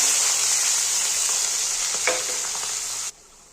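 Chopped onions and green chillies sizzle loudly in hot oil for a chicken kosha, a steady bright hiss with a faint stir near the middle before it cuts off abruptly.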